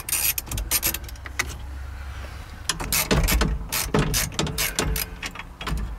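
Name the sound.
undoing steering column nut on a 1992 Miata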